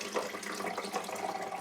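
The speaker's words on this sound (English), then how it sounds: "let me get cold water here" Cold water runs steadily from a tap into a color-changing stadium cup, a continuous close splashing stream with no talk over it.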